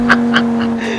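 A 1995 Audi RS2 Avant engine in Forza Horizon 3 idles with a steady hum, broken by several quick popping backfire cracks, each short and evenly spaced.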